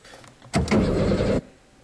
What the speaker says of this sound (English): The engine made an odd cracking noise, like metal on metal, and fell silent.